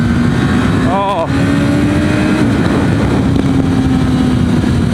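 Suzuki SRAD motorcycle being ridden on the road, a steady engine drone heavily buried in loud wind rush at the microphone, with a brief rising pitch shift near the start.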